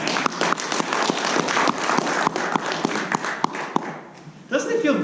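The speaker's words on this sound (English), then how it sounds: "give yourselves a round of applause" A Toastmasters meeting audience breaks into a round of applause, dense and energetic clapping filling the room before tapering off, with a voice starting up at the end.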